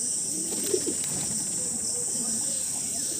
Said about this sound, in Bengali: এই যে দেখুন পায়রা আছে এই ঘরের মধ্যে কিছু